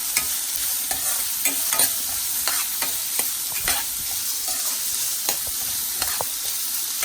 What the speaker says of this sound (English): Saute it well. Keep it on a high flame.